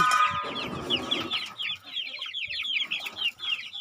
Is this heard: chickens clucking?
yes